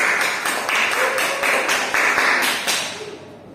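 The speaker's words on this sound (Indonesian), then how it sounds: "Tepuk tangan dulu untuk kalian." Students in a classroom clap together for a few seconds, a dense burst of nearby applause that thins out and fades toward the end.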